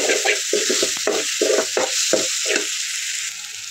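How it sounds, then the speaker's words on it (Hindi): Chopped tomato fries in a pan for a mushroom masala, giving a steady close sizzle broken by repeated scraping stirs of a spoon through the pan, with no voices. "अब इसी टाइम पे मैं एक छोटा टमाटर चॉप करके रखी थी, इसे भी हम 2 मिनट तक भून लेंगे।"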